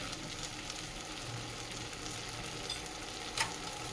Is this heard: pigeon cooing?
no